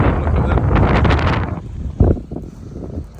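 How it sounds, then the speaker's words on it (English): Strong wind buffets the microphone on an exposed hilltop under power lines, a loud rumbling roar that drops away midway, then returns in gusts with a thump. "It's very windy up here."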